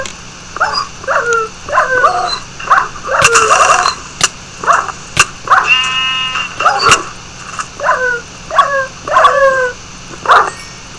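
Repeated short dog whimpers and yelps from a creature in a video game, coming in quick clusters with brief gaps and sharp clicks and thuds between them, loud and up close with no talking.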